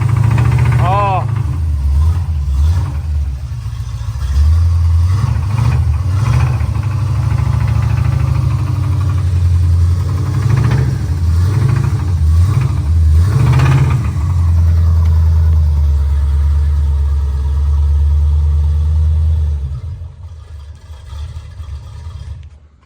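A car fitted with a 440 engine and pipe exhaust idles with a deep, loud, steady rumble, swelling with several revs throughout before dropping off near the end.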